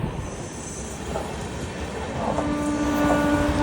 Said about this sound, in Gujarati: આપણી સામેની સાઈડથી જે ટ્રેન જઈ રહી છે તે કહેવાય છે બાર નવસો એકાવન મુંબઈ સેન્ટ્રલથી ચાલીને ન્યૂ દિલ્હી જતી તેજસ રાજધાની એક્સપ્રેસ છે